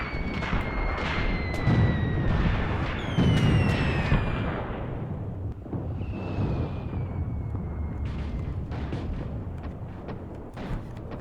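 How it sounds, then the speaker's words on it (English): Artillery fire in a WW2 North Africa battle video game, a dense, continuous rumble of booming impacts with a few louder blasts near the start, whistling tones sliding overhead, sustained and loud throughout. "they're calling in a ton of artillery here"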